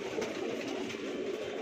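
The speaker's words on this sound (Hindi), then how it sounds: "ये कबूतर है" Pigeons of the Junior Gajab breed, a red-winged line kept at a home loft in Mumbai, give a steady low cooing murmur, close and continuous with no voices.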